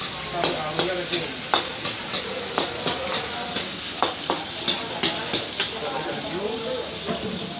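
Nasi goreng with chopped chicken fries in a pan in a cafe kitchen: constant hissing sizzle with rhythmic metallic scrapes and taps from stirring, close and steady, while a person talks quietly underneath.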